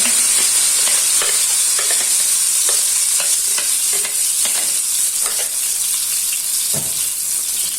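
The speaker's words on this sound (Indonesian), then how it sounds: "Dan di sini sudah saya panaskan minyak. Untuk bumbunya ini saya tumis dulu." Ground spice paste sautéing in heated oil, a bright steady sizzle punctuated by repeated scraping strokes of a utensil stirring the pan, close and loud throughout.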